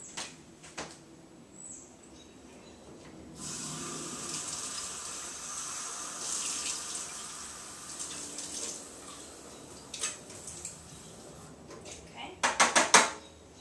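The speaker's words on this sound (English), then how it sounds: "rinse it thoroughly down the sink with tap water" Tap water runs steadily into a sink as a lab beaker is rinsed, with clinks of glassware and brief clattering knocks near the start and a burst of sharp clinks at the end.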